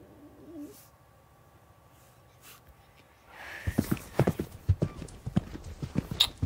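An injured horse walks on hard ground, its hooves clip-clopping in a steady rhythm that starts midway and continues close and clear after a quiet opening.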